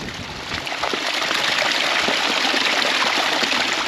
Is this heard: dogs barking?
no